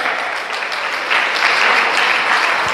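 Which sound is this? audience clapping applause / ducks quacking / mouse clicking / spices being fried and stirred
audience clapping applause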